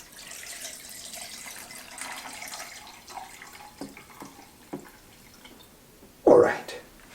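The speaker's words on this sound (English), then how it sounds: "Let me see if I can add the water back in there" Water is poured back into a container, a soft trickling and splashing with scattered drips, ending in a brief louder gush near the end.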